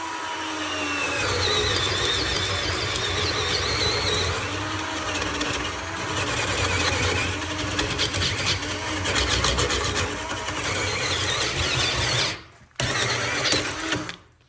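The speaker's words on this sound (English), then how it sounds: "I've never seen a drill go that slow." A cheap power drill whirs steadily at a low, sluggish speed for several seconds, briefly cutting out before spinning up again; loud and close.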